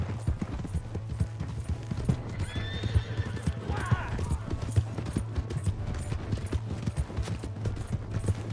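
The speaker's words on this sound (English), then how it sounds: "That's my horse!" Steady hoofbeats clip-clop throughout with a horse whinnying midway in Red Dead Redemption 2, over a low droning background hum and occasional voices.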